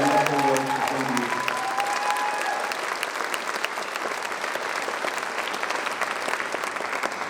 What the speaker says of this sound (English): please give them a round of applause for the wonderful work that they do